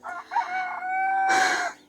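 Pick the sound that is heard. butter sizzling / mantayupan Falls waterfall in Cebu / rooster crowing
rooster crowing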